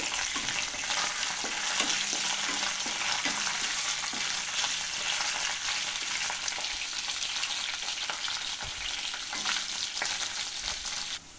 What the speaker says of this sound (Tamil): அதோடவே சேர்ந்து நல்லா வதங்கட்டும்